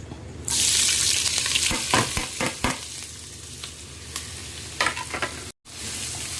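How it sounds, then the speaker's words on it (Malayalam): Onion, green chili, ginger and curry leaves are sautéed in a pan, a loud sizzle erupting as they go in, followed by several sharp stirring scrapes and a brief cut near the end. "സവാള, പച്ചമുളക്, ഇഞ്ചി, വേപ്പിലൊക്കെ ഇട്ട് ഞാൻ ചെറുതായിട്ടൊന്ന് വഴറ്റുവാണ്"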